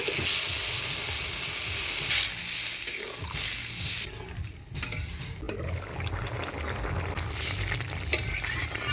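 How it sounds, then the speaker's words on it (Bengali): Fried potato and cauliflower stirred with spices in a pan, a loud hissing sizzle with scraping and metal clinks from the spoon, close up and continuous, with no talking. "আলু ফুলকপি দিয়ে মশলার সাথে ভালো করে নাড়াচাড়া করে নিলাম"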